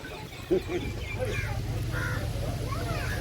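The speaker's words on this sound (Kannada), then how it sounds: "ಕಾಗೆ ಅಡ್ಡ ಬಂದ್ಬಿಡ್ತು." A crow caws outdoors, a few short harsh calls at moderate distance, over a steady low background rumble with people talking nearby.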